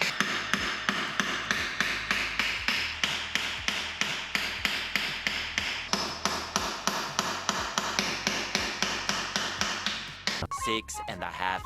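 Rapid, regular metallic hammer blows on 2022 Ford Puma parts during a clutch replacement ring out one after another at close range, a steady rhythm of sharp strikes that falters and stops near the end.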